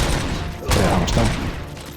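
Gunfire in the video game RoboCop: Rogue City, a dense run of shots with a sharp burst partway through, steady game noise underneath.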